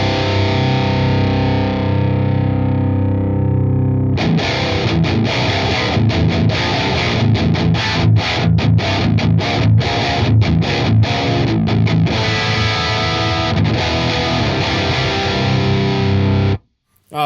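Distorted electric guitar through the Fortin Nameless amp plugin with both cabinet microphones blended: a ringing chord fades, then a loud burst of tight, chugging palm-muted riffing with sharp stops, played alone until it cuts off.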